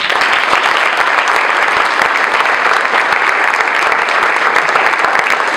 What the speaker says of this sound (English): Give a nice round of applause to Jacob Miller